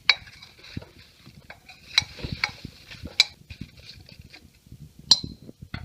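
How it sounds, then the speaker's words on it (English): Apples and brown sugar are stirred in a crockpot with a metal spoon, giving repeated scraping swirls and bright clinks against the pot at an uneven rhythm, close and fairly quiet. "So I'm just stirring this all around a little bit."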